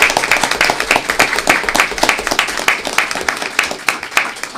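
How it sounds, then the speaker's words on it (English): At a Surry County school board meeting, the audience gives a fifth grade teacher from White Plains Elementary a hearty round of applause, loud, rhythmic individual claps merging into steady clapping throughout. "Let's give her a big round of applause"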